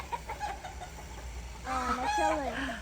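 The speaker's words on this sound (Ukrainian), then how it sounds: "Там сидять півні." A rooster crows loudly and close by, a strained rising call near the end, after a stretch of softer clucking and background noise.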